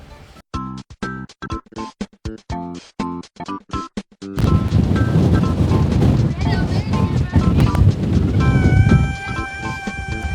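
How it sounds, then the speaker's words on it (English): Strong wind at Nuuanu Pali Lookout, Hawaii, buffets the microphone as a loud, steady roar after a stretch of rhythmic music, with a voice speaking over it. "It's a little windy."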